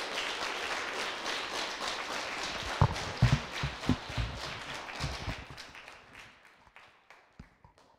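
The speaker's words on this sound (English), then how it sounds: "a really nice round of applause" A crowd claps in sustained applause that gradually thins out, ending with a few scattered claps.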